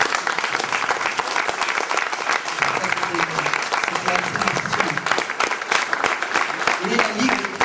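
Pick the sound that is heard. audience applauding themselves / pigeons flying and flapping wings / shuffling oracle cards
audience applauding themselves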